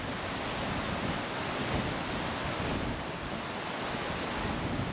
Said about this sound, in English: Come on, wind.